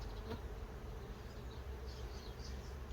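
Honeybees buzz at the hive in a dense, continuous hum, many insects droning together at close range with no voices.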